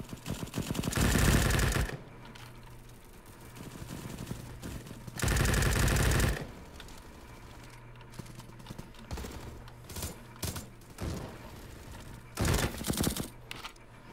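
Bursts of rapid automatic gunfire in the Roblox shooter Bad Business, infection mode, several loud volleys of a second or so separated by quieter stretches with scattered single shots and a low game hum.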